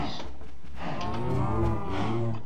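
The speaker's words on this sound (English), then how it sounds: "Similar setup over here with the cows." A single drawn-out Minecraft cow moo, fairly close and clear, lasting a couple of seconds.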